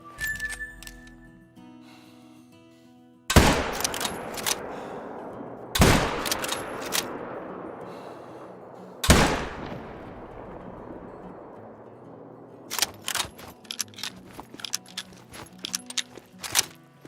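Hunting video game gunshots: three loud, sharp rifle cracks spaced a few seconds apart with long decaying echoes, followed by a rapid cluster of quicker shots near the end, against quiet background.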